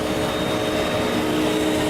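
A Sirena water-filter vacuum cleaner runs with its hose moved to the exhaust to dry it out, giving a loud, steady motor whine and rushing airflow that holds without change and with no talk.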